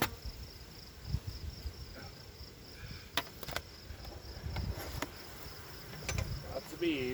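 Honey bees buzz inside a hive opened for inspection one week after splitting, a soft steady hum with faint higher whines and a few brief clicks from handling, close and fairly quiet.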